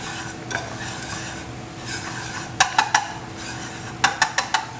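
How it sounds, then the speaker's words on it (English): A roux of a cup of flour and a cup of oil stirred constantly over high heat, a continuous sizzle with scraping strokes and bursts of quick spoon taps against the pot, close and fairly loud. "You got to constantly stir it"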